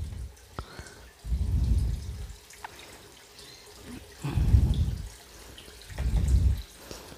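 Water poured into the tank of a portable mini air conditioner in three separate bursts of low gurgling pour, with quiet pauses between them and no talk.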